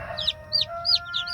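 Brahma cross-breed chicks peep at close range in a quick run of four or five high, chirpy calls.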